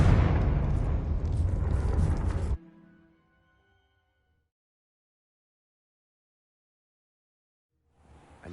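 A spell explosion in the fantasy video game Hogwarts Legacy, a loud roaring blast with a rumble that cuts off abruptly, followed by a faint ringing tail and then silence.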